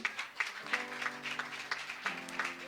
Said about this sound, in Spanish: denle un aplauso al Cristo de la gloria